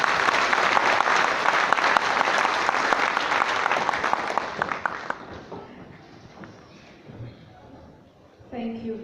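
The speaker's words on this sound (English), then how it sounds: "Can we have those hands applauded again for them?" Loud, dense applause from a graduation ceremony audience at the Palais des Congrès in Cameroon, sustained for several seconds and then fading to scattered claps, with voices starting up near the end.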